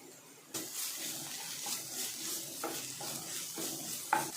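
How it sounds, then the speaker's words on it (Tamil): Steady sizzling of green chilli and ginger-garlic paste sautéing in a hot pan, with occasional stirring scrapes, close and continuous, no voices. "நல்லா பச்சை வாசம் போகிற அளவுக்கு நல்லா வதக்கி விடலாம்"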